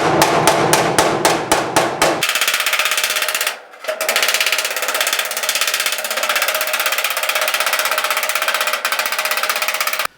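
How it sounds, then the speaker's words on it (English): Rapid metallic hammer-and-dolly taps on sheet metal of a Pontiac GTO wheel well, a quick burst of sharp strikes followed by a continuous loud grinding-like clatter, close up. "smooth all this sheet metal out while I've got the hammer and dolly in my hand"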